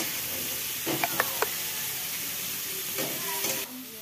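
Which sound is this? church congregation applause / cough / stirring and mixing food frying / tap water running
stirring and mixing food frying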